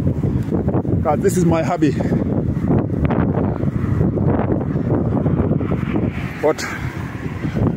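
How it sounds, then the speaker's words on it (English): Strong wind buffets the microphone as a continuous rough roar on a street walk along Biscot Road in Luton, UK, with someone talking throughout over it. "my only problem today, it is very, very windy out here."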